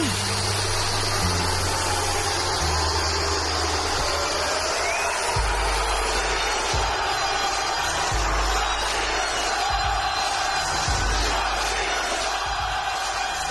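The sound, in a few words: crowd booing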